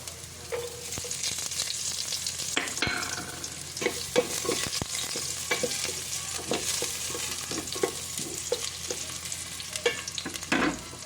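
Garlic sautéing in a pan, with a steady close sizzle broken by repeated scraping and stirring clicks from a utensil, and no voices over it.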